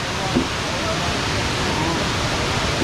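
A steady, dense rush of falling water at Kuang Si waterfall near Luang Prabang roars without pause, loud and close, with a faint voice briefly audible beneath it.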